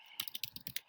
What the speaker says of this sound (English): and I'm going to type this